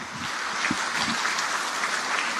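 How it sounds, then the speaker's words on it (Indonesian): Audience at a Universiti Kebangsaan Malaysia gathering clapping for Ustaz Abdul Somad, a brief, dense burst of applause from a crowd, with a few low murmurs and thumps near the start. "apa kata kita berikan satu tepukan buat Ustaz Abdul Somad"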